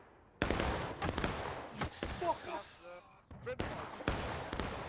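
Musket volley fire in War of Rights, a Civil War battle on Nicodemus Hill: a burst of loud overlapping shots, then scattered single reports and clatter through the middle, and another heavy ragged volley near the end.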